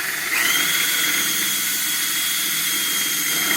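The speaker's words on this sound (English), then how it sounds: "we're going to use a 1/4 inch drill bit" A power drill with a 1/4 inch bit boring into wood for a collapsible work table, a steady high-pitched whine that starts abruptly and runs on evenly, close and loud.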